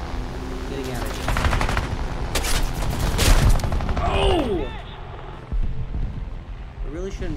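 Rapid gunfire raking toward the player's aircraft in a flight combat game, dense bursts of close, loud shots over engine roar, fading after a few seconds into whistling sweeps and scattered hits.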